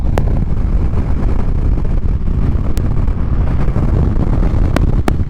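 Strong wind roars steadily across the microphone outdoors by a small lake, a constant low rumble broken by a few faint clicks.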